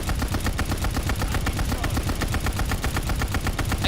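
Ball turret gunner blasting in Call of Duty Vanguard, a loud, rapid, unbroken machine-gun rattle of evenly spaced shots that runs close and steady throughout, with no talking.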